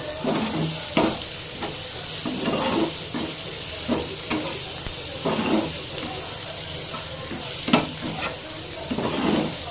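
Fried brinjal stirred in a hot sizzling pan, a continuous loud sizzle punctuated by regular scraping and clattering strokes of a spatula, close up with no voices.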